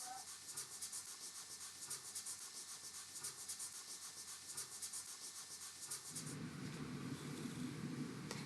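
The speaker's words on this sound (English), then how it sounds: "added back some blue and gray and then rubbed it in" Steady rhythmic rubbing blends blue and gray color into a cloud in a landscape drawing on paper. Soft, close, repeated strokes run back and forth and grow slightly denser near the end.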